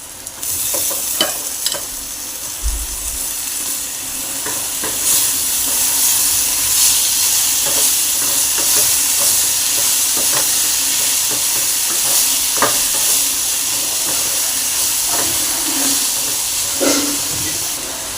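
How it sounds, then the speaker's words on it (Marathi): Sprouted moth beans stir-frying with roasted masala in a pan: a strong, steady sizzle fills the whole stretch, with scattered spatula scrapes and clicks and no talking. "मटकी छान अशी परतून झाली।"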